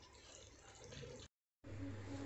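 Water is poured into a pot of rice for prawn biryani, a soft, steady gush and splash heard close and fairly quiet, cut by a brief gap before the flow resumes.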